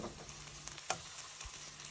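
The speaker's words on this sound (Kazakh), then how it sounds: "Пияз және де сарымсақ қызарып қуырылғаннан кейін үстіне сәбізді саламыз." Onion, garlic, carrot and sweet pepper fry in a pan with a soft, quiet sizzle, broken by one light clink of a stirring utensil.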